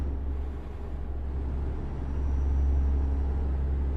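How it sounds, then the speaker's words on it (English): Euro Truck Simulator truck engine cruising through a tunnel, a low, steady rumble that slowly swells and stays continuous, with no talk over it. "I guess the sound of this truck is alright."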